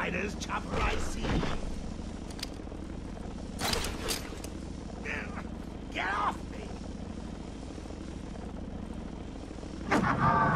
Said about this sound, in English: Is that Jack Ryder's chopper I see?